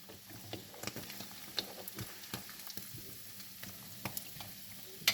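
Fish fries in hot olive oil with a steady close sizzle, broken by light scraping and clicking as pieces are stirred and scooped out.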